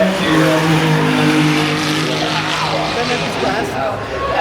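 Race car powering around the Goodwood Festival of Speed hill climb track, a loud sustained engine roar with tire noise passing close by, heavily mixed with crowd and commentary.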